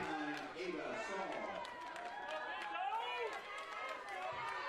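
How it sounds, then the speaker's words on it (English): Spectators at a youth softball game cheering and chattering as a steady crowd roar under a commentator's voice, with scattered claps and calls rising through the noise. "Crowd alive and well"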